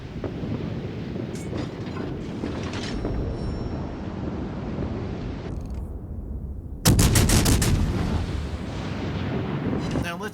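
The German cruiser Prinz Eugen fires armour-piercing shells in the naval game World of Warships: a continuous rumbling battle bed, then a sharp, heavy salvo crack near the middle that rolls into a sustained roar.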